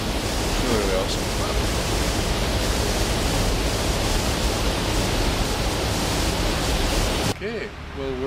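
Water flows outdoors near Huddersfield as a loud, dense, continuous rush, like a stream or weir close by. It stays steady and unbroken until a short, quieter break at the very end.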